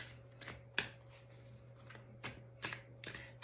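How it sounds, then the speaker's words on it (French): Tarot cards being shuffled by hand, a run of quick papery riffles and slaps in uneven bursts, close and fairly soft over a low steady hum. "Vous allez me voir battre les cartes bien sagement"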